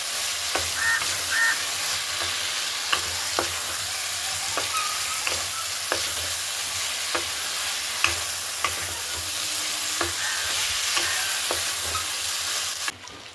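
Cut cauliflower and potatoes sizzle in hot oil in a pan while a spoon stirs them, giving a steady frying hiss with regular scraping clicks and taps, close up and without talk.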